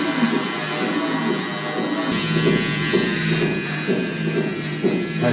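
A tattoo machine buzzes continuously while tattooing, a close, steady electric whine with a slight change in tone partway through and no talk.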